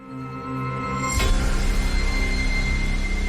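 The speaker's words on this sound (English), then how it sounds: "that sound is like an ominous boot up sound" A deep, droning electronic tone swells and holds steady, then a bright whoosh hits and settles into a dense, ominous rumble, like an Xbox Series X booting up.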